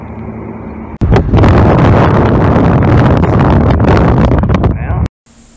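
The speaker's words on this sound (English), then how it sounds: "the wind was so bad that I really couldn't fish any longer" Strong wind blasts across the microphone beside the Westgate Bridge while fishing, a loud roaring buffet that rises abruptly, rumbles for about four seconds and then cuts off.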